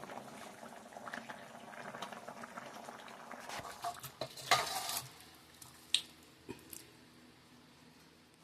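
Fish curry boils in a pot with a soft, continuous bubbling, broken by a few sharper clinks and scrapes of a spoon against the vessel near the end.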